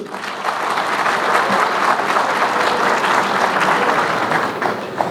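An audience at an iftar program held by a business association breaks into steady, sustained applause, a full, even wash of many hands clapping at once without a break.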